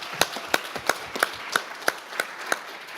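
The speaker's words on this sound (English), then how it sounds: "So I just want to give Oregon and Jackson County a round of applause" An audience at a summit on human trafficking gives a round of applause, heard as a thin run of evenly spaced single claps, about three per second, faint and sparse.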